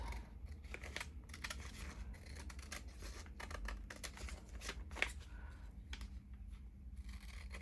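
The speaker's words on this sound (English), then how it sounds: "I'm just trimming as close as I can get to the stitching without ruining the stitching" Scissors snipping fabric close to the stitching on handmade handkerchief pockets, a quiet run of small crisp cuts with soft cloth rustling between them, close and faint, with one slightly sharper snip partway through.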